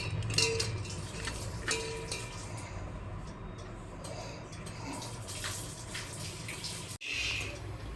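Half a litre of water poured into a bowl of eggs set on a stove, a steady, soft splashing pour with faint clinks of dishware underneath.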